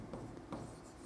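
Chalk or marker strokes on a board during a Hindi-language chemistry lecture on crystal structures, giving a brief, close run of scratchy writing strokes with no voice over it.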